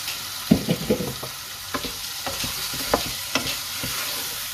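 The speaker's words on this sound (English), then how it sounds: "So while that's frying, I'm also going to pop in my prawn straight away." Prawns frying in a hot pan for a curry give a steady sizzle, with a few sharp spits and clatters of stirring early on and then scattered pops over a continuous crackling hiss. No one speaks.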